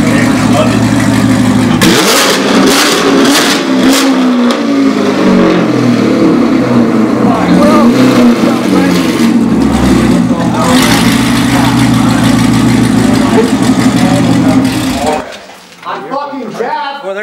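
Ferrari F430 with newly installed straight pipes starting and revving in a garage, a very loud, raspy engine roaring and climbing for about fifteen seconds before cutting off abruptly, with people talking over it.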